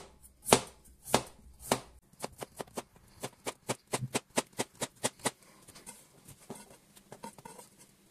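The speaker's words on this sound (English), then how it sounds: "So let's slice the four potatoes up." A knife slices four potatoes on a cutting board: a few slow, heavy chops, then a steady run of quick, even cuts that fade to lighter taps, close and without talking.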